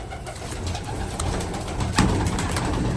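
Young pigeons coo and flutter steadily as they are let into a cage floored with spread sacks, a dense, continuous soft murmur of calls close by with a slightly louder burst near the end.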